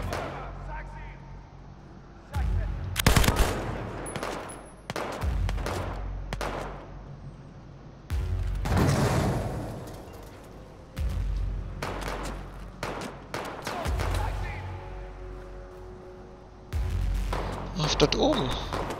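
Gunfire in Battlefield 4, an airport conquest battle, with bursts of shots and heavy impacts arriving in clusters, loud and near, separated by quieter stretches while someone talks over the action.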